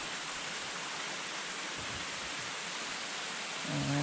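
A small waterfall along a forest trail at Ice Gulch, giving a steady, broadband rush of falling water that stays even and close throughout, with no talk over it.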